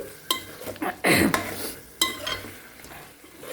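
Country chicken curry with red oil simmering in a pot is stirred with a spoon, giving a few close scraping strokes and clinks against the pot over a soft bubbling sizzle, with no speech.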